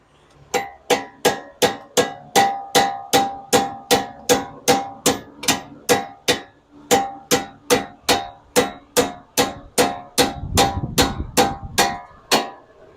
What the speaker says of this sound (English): Take your hammer, and you're just going to nail that, drive that in a little bit.